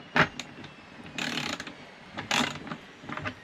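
A small ratchet or wrench gives a few short, close bursts of clicks, separated by pauses, while the negative terminal bolt on a 25.6V 100Ah LiFePO4 battery is tightened lightly. No one speaks.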